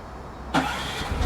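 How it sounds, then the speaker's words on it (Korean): A quiet hum is broken by an RV generator cranking and catching, then settling into a low, steady running drone. "발전기 소음 한번 들어보시겠습니까? 제가 켜보겠습니다."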